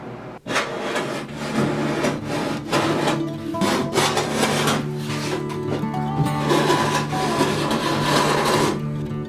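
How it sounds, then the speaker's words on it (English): Abrasive sanding of thickened epoxy fillets filling voids on a wooden nesting sailing dinghy, a steady close rasping scrub that runs continuously with brief pauses and strokes. "I think I'm gonna fill all the voids with thickened epoxy, and then I'll sand it down."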